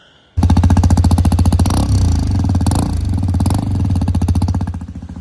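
A Hero Xpulse 210 dirt bike engine runs while riding, starting abruptly and then holding a loud, close, rapid thumping throttle note that eases slightly near the end, with no voices.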